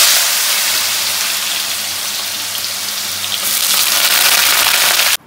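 Sliced potatoes for aloo bhujia hit hot oil in a pan with a loud, continuous sizzle that swells briefly near the end before cutting off, close up with no voices.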